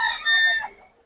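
A fighting rooster crows nearby, one clear, loud, drawn-out call that tapers off over about a second.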